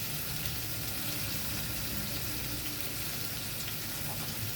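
Salted water heating in a pan for eggplant curry, a faint continuous bubbling and hissing as it comes to a boil, steady and close with no talking.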